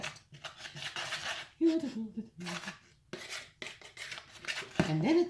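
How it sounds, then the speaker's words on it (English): Wire whisk rasping and scraping against a bowl as lemon zest is mixed into dry ingredients, a steady rubbing texture with a few brief clinks, fairly close. "I've never whisked lemon zest."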